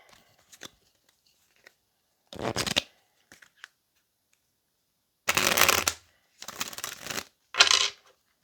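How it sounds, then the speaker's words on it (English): A tarot deck is shuffled in a few close, crisp bursts of riffling, each about half a second to a second long, separated by near silence with faint taps. "All right, let's get our last shuffle."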